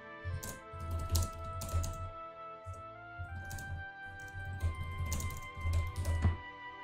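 Computer keyboard keys pressed in quick bursts of clicks and taps while a short 2D kaizo platformer game is played, with steady game music underneath and no talking.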